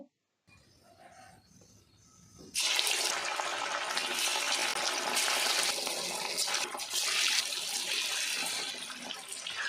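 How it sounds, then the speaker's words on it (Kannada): Spiced egg-cube kebab pieces drop into hot oil and break into a loud, continuous bubbling sizzle that holds steady close up after a quieter start. "ಪೀಸ್ಗಳಿಗೆ ಇದನ್ನು ನಾವು ಎಣ್ಣೆಲಿ ಕರಿಬೇಕು"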